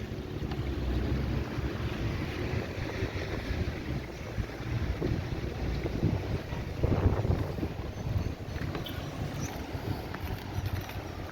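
Wind rumbles across the Careenage wharf waterfront in Bridgetown, Barbados, with boats nearby and water lapping, a steady blustery wash with no talking.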